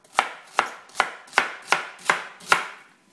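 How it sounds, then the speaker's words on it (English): A knife roughly chopping celery on a cutting board: seven crisp, evenly spaced chops about half a second apart, close and clear with nothing else audible. "again, with your celery, again, it's just a rough chop."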